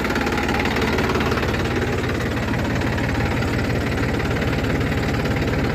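A Massey Ferguson 246 4x4 tractor idles up close, its diesel engine chugging in a loud, steady, rapid knock that holds unchanged throughout.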